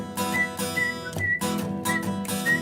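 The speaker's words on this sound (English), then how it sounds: "I'm gonna have to whistle." Someone whistles a tune at a meeting, producing short, clear, high notes in a repeating phrase over a fuller, harmonic tonal backdrop.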